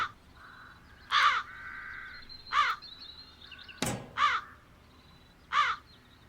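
Crows cawing in the adventure game The Dark Eye: Chains of Satinav: about five harsh caws spaced irregularly over several seconds, close and clear, with one sharp crack partway through and no voices.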